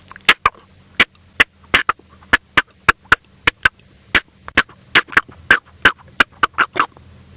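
A person voices an imitation of a vervet monkey alarm call, a rapid series of sharp, loud barking chirps repeated around twenty times in an uneven, urgent rhythm, close to the microphone.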